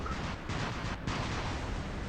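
Gunfire and artillery-like blasts in the War Robots mech game, a dense continuous barrage of distant shots rumbling steadily throughout with no voice.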